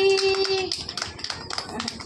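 Hands clapping during a child's beginner dance lesson: a quick run of close, sharp claps, roughly a dozen in two seconds, following a short sustained tone.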